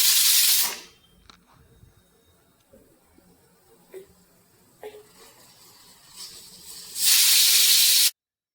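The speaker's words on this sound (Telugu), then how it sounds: "కుక్కర్ విజిల్ అనేది 3 విజిల్స్ వస్తే సరిపోతుంది." Steam hisses loudly from a pressure cooker whistle while vegetable pulao cooks: a strong burst at the start, a quiet stretch, then a second sustained loud burst near the end.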